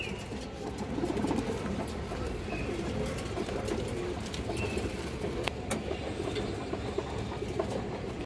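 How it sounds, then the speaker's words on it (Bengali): Kaldom pigeons coo steadily and softly, several birds in a dense, continuous murmur with scattered light clicks and rustles, no voices. "কালদম আর একটা মাদি কবুতর"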